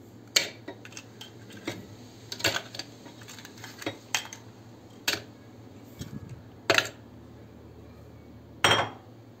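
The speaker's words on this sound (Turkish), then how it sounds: "İlk önce yumurta kabuklarını blenderın içerisine atıyoruz." Egg shells tossed into a blender jar, giving a series of sharp, scattered clinks and light rattles against glass, with quiet gaps between the hits.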